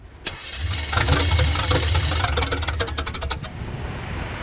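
A car engine that has run out of gas cranks and fires in a rapid, uneven chugging burst, catching briefly without settling into a run, then fading into a faint hiss.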